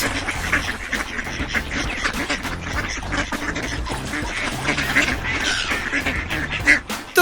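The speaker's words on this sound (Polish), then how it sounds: "Kaczka kwacze" Duck quacking repeatedly on a farm, loud, dense, raspy calls running close together, overlapping and near throughout.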